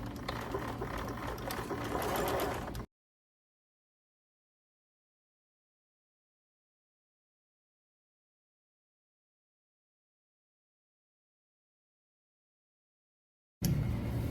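A sewing machine whirs steadily for a few seconds, stitching a doll skirt's waistband, falls completely silent for a long stretch, then starts stitching again briefly at the end.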